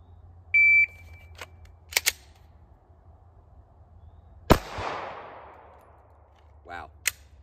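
Pistol drawn from carry with an empty chamber, racked and fired: a short electronic timer beep, a few sharp clicks of handling and racking, then a single loud shot ringing out, followed by more faint clicks.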